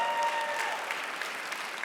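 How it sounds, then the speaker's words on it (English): Audience applause for a speaker at an insurance software company's conference livestream, steady dense clapping throughout, moderately distant and even in level. "Round of applause."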